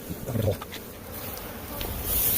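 A steady bee buzz hums throughout, close and fairly loud, with some rustling and a few low bumps underneath, in Bisbee, Arizona.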